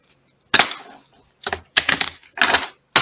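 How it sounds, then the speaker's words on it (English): A deck of Bicycle playing cards being shuffled in quick bursts, several crisp riffling rustles separated by short pauses, close and clear. "I'm going to shuffle one more time."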